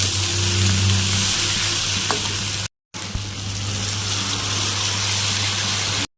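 Mustard paste hits hot oil in a pan with a loud, steady frying sizzle and hiss, close up and briefly cut off midway before resuming.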